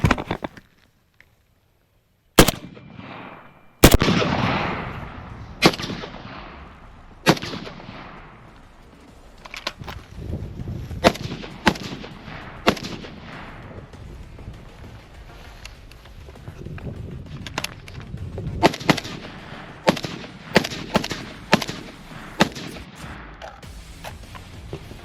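An FN SCAR rifle fires outdoors: sharp single shots at first, then irregular loud reports spaced a second or two apart over breezy background noise, with no talk.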